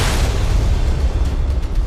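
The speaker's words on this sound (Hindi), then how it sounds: "पलटने के बाद टैंकर से गैस का रिसाव हुआ और चंद सेकंड बाद ही उसमें जोरदार धमाका हुआ।" A liquid gas tanker explodes after overturning and leaking gas, giving a loud, dense roar that fills the whole moment without a break.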